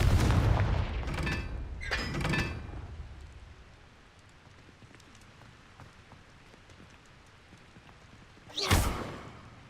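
Confringo spell explosions in Hogwarts Legacy, a couple of loud booming blasts at the start and another sharp burst near the end, with rumbling debris between.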